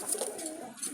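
Jalali pigeons give a soft, brief coo, faint and close, in a short burst with no talking over it.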